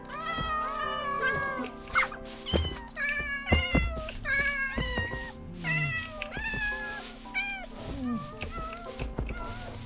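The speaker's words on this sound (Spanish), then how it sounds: "por acá tenemos distintos tipos de gatos con nuevos colores, de los que ya habían tenemos más, y tienen un nuevo sonido" Minecraft cats meow repeatedly in the video game, with many overlapping cries, some drawn out and wavering, heard clearly and close with no talking.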